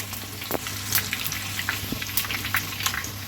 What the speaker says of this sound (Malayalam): ഇനി നമുക്ക് മറ്റേ സൈഡും കൂടെ നന്നായി മുരിഞ്ഞ് വരുന്നത് വരെ വെയിറ്റ് ചെയ്യാം